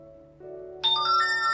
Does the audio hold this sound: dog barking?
no